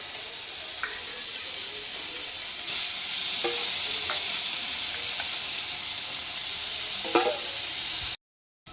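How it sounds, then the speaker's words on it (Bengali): Cauliflower and potato frying in a pan for chira pulao, a steady hiss and sizzle with a few scraping stir strokes, close and continuous, cutting off abruptly near the end. "কপিটা আর এই আলুটা ভাজছি।"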